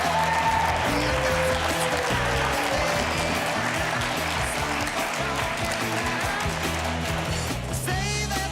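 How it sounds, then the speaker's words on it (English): A studio audience breaks into sustained, dense applause as a man named Brian Lawson is called onto the stage at a live morning show, loud and steady throughout, with some cheering mixed in. "join me up on stage to a thunderous round of applause"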